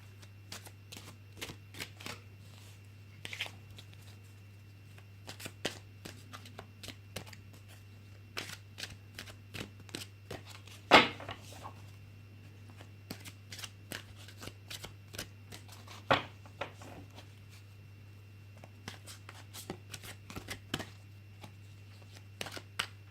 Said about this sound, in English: So I'm going to go ahead and pull some cards from the Wisdom of the Oracle deck.